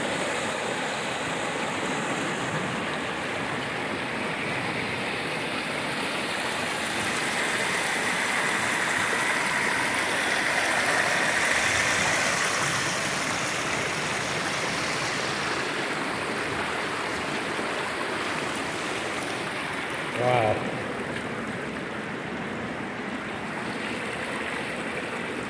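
Rushing stream water at the headwaters of the San Diego River in the Santa Ysabel Mountains, California: a steady, dense broadband roar of flowing water, close and continuous for the whole stretch, with no voices.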